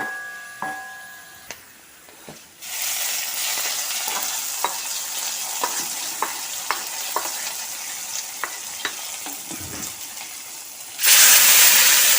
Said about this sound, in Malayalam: ഉള്ളിയും വേപ്പിലയും മൂത്ത് വന്നിട്ടുണ്ട് കേട്ടോ. നമുക്കിത് കറിയിലേക്ക് താളിച്ച് കൊടുക്കാം.